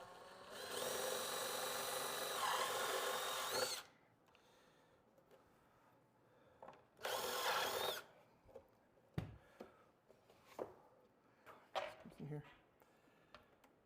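A power drill bores a hole through a flat spot on a Vegas Hardbags saddlebag for the Lowrider ST rear audio kit wiring, whining loudly in two bursts. Quieter clicks and handling knocks follow.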